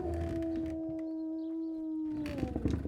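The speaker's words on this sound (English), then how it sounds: "My dog outside just tripping." A dog howls outside in long sustained wavering tones, fairly loud and steady for most of the stretch, with no talk and a brief rustling clatter near the end.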